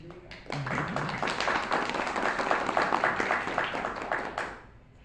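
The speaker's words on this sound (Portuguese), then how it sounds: "Então, Naya, meus aplausos para ti" Audience applause for a guest at a Brazilian ecosocialism talk, a steady wash of many hands clapping that swells in, holds for about four seconds, then fades out.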